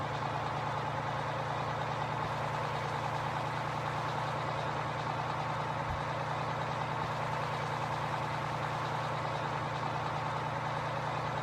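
A truck engine in the tractor-and-farm game Farming Simulator 15 drones steadily at a low, even pitch for the whole stretch, a continuous mechanical rumble with a faint single thump midway and no voices.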